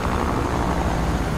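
Helicopter in Fortnite flying close by, a dense, loud rotor-and-engine roar filling a short burst with no voices.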